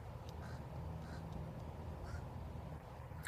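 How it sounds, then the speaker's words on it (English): A bird calls outdoors behind a workplace, sending short, harsh, croaking caws in a few spaced bursts over a low, constant background hum. "Listen to this. There's this fucking bird."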